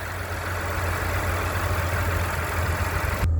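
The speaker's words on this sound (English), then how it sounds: "shot of the exhaust with the motor running" A 2018 Cadillac XT5 engine idles steadily at close range with a low, even rumble, then cuts off abruptly at the end.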